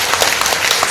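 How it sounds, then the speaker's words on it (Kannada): Dense, loud applause from an audience welcoming guests at a book launch event, continuous clapping with no voices over it. "ಅದೇ ಮೇಷ್ಟು ಅತಿಥಿಗಳನ್ನ ಸ್ವಾಗತಿಸೋಣ ಪ್ರೀತಿಯ ಚಪ್ಪಾಳೆಯೊಂದಿಗೆ."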